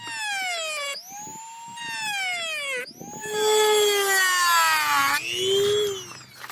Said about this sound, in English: your Dremel tool with a cutting blade